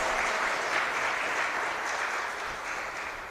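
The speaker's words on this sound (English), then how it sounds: "give him a round of applause" An audience at a tourism youth expo gives a sustained round of clapping, dense and even throughout, gradually easing toward the end with no voices over it.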